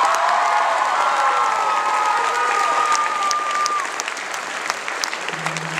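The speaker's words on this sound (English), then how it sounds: "a round of applause for the hard work of Eugene O'Sullivan one more time" At a cosplay convention, a large crowd applauds and cheers loudly, with a long rising whistle or whoop cutting through the dense clapping before it eases slightly and continues.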